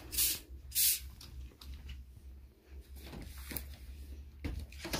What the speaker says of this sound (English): Maglagay lang tayo ng konting spray sa training pad.